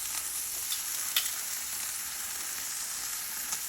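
Chicken breast frying in a non-stick pan, a steady close sizzle with faint crackles and a few small pops, no talking.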